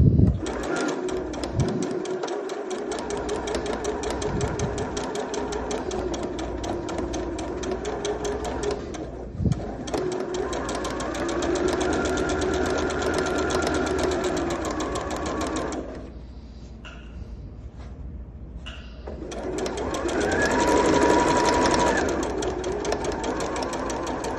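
A sewing machine stitches a small fabric multipurpose bag, a loud close rapid mechanical whir that runs in long stretches, slows and pauses briefly, then picks up again.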